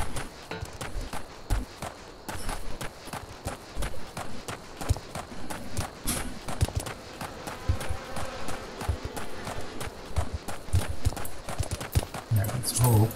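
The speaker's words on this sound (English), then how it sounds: "Ran straight into a giant horse." Horse hooves in the Final Fantasy XIV video game, a steady run of clip-clop beats carrying on throughout alongside game music and other effects, with talk over the top.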